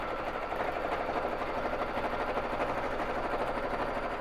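A BabyLock Jazz sewing machine running on a quilting frame for free-motion quilting gives a steady, dense, close mechanical hum with a rapid needle chatter, unbroken from start to finish.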